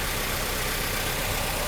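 A Mercedes W123 230E engine idles steadily after repair work on its fuel distributor, a constant even rumble close to the microphone with no other sounds.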